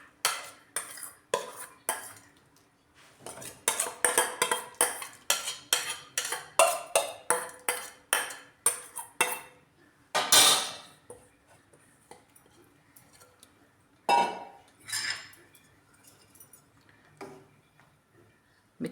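A spoon stirs grated potato and soaked sago in a pot of hot water, making rapid rhythmic scraping and clinking against the pot's metal sides, followed by a few isolated taps and pauses.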